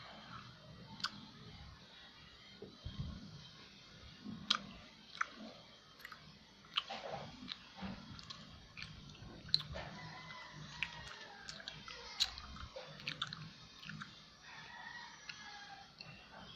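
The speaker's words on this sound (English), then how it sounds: "I just chew so fast" Chewing on a cube of food, fast, close and wet with irregular crunchy clicks spread across the stretch over a faint background.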